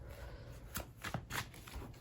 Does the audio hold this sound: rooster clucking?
no